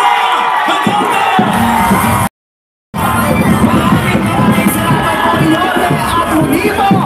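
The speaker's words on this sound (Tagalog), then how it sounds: "Ating salubungin ng mainit na palakpak at sigawan, Vice President Sara Duterte!" A rally crowd for Vice President Sara Duterte in Tondo, Manila, roars with loud, sustained cheering, whoops and yells, broken by a brief silent gap before the noise resumes at full strength.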